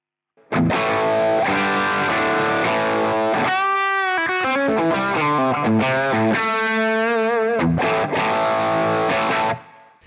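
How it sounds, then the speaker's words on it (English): Distorted electric guitar chords and sustained notes ringing out with a lush, spacious vintage plate reverb tail set to 2 seconds, played steadily and loudly throughout. "The plate reverb is a vintage sounding reverb"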